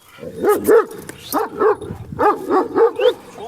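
Big, thick-coated Erzurum dogs bark outdoors in a rapid series of deep, loud woofs, close by, with short gaps and a faint whimper between bursts.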